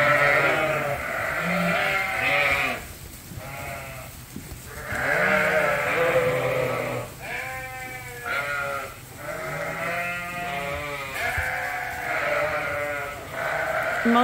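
About 250 sheep bleat continuously, overlapping calls from a large flock close by, with steady farmyard background noise.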